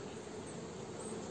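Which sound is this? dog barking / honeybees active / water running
honeybees active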